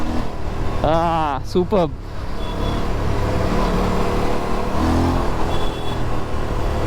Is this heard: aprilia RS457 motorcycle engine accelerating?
yes